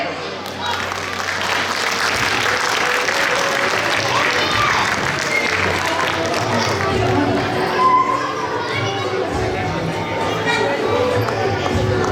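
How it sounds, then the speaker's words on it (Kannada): An audience claps steadily at a children's festival award ceremony, with crowd noise and scattered voices mixed in throughout. "ನಿಮ್ಮೆಲ್ಲರ ಚಪ್ಪಾಳೆ"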